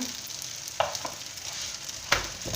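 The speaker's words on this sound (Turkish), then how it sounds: "bu arada çökelikler pişiyor güzel kızardı" Çökelek cheese filling for gözleme frying in a pan, giving a continuous gentle sizzle with two or three sharper scrapes or taps of a utensil, close and fairly quiet, with no talking.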